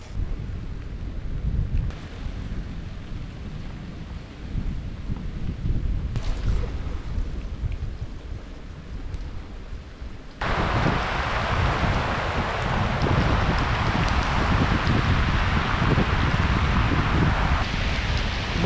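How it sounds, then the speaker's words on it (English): Rain and wind roar outdoors during a cycling trip in Panama, a dense, loud hiss with heavy wind buffeting on the microphone that grows sharply stronger and brighter partway through. "Another day, another rain."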